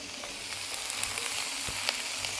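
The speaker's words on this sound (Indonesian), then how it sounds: "kali ini masak mie goreng sosis" Mie goreng with sausage sizzles and fries in a pan while a sahur meal is cooked, a steady close hiss with a few faint clinks and stirring sounds throughout.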